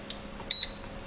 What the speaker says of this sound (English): Sorry for that beeping